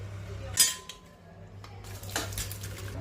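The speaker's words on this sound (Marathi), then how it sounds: "आता याला निथळून घेऊया एका गाळणीमध्ये।" Cooked dal is drained through a strainer in a pot, giving a few soft metallic clinks and scrapes of the vessels over a low kitchen hum, with one sharper clank near the start.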